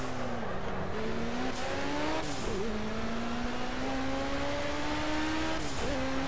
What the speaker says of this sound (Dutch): Je moet echt heel rustig accelereren.